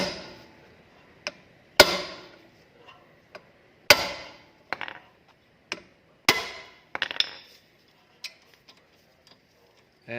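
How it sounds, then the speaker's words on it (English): A series of sharp metallic hammer strikes on a tool, about eight of them, spaced irregularly with short ringing decays between, close and fairly loud, during rear brake pad replacement on a Honda Accord. "firmly hit it with the hammer"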